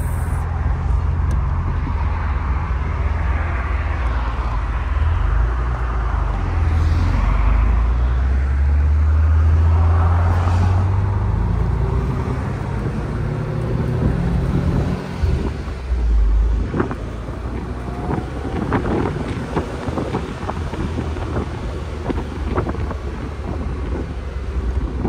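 A 1982 Mercedes-Benz 280SL convertible with a 5-speed and 10K actual miles is driven at night with the top down. A low engine drone runs under heavy wind buffeting that rises and falls as the car moves.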